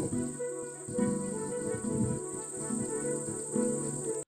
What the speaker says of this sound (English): that cicada sound just maybe just a little too loud